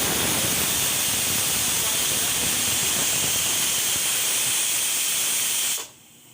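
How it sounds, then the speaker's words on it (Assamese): Pressure cooker on a gas stove, cooking chicken biryani, releasing steam in a loud, steady hiss that runs close up for nearly six seconds and then cuts off abruptly. "এনেকৈ হাৱাটো গুচাই দিছোঁ মই"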